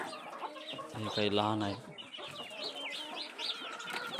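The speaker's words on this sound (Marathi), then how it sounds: "या पूर्ण ह्या कोंबड्या आहेत." Hens and a rooster on a small egg-laying poultry farm of about 70–80 birds, clucking and calling repeatedly at close range, with someone talking over them.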